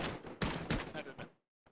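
Rapid bursts of gunfire in a war video game crack out close and loud in a quick, uneven volley, followed by a pause and one faint final shot.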